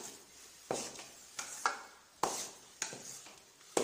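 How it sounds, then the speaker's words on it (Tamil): Puffed rice laddu mixture being stirred in a pan on the stove, a series of soft scraping strokes and light clinks every second or so, close and moderately quiet, with no talking. "அடி பிடிக்காமல் கைவிடாமல் கிண்டிக்கோங்க"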